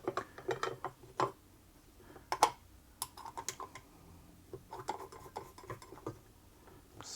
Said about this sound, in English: Install the faceplate here.